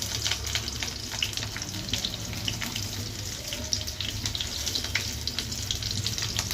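Chopped onion dropped into a pan with fried cloves, giving a steady close crackling sizzle throughout with faint scraping, no talk.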